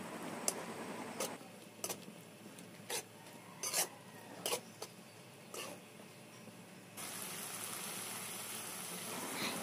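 A spoon stirs rui fish curry in a pan, giving a string of quiet, separate clinks and scrapes spaced about a second apart over a soft hiss, with a steadier bubbling wash at the end.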